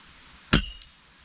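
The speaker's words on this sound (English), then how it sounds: "Try to shoot at the big metal target." A pellet from a Stoeger air rifle strikes a big metal target, giving one sharp, loud clang that rings briefly, over quiet outdoor background.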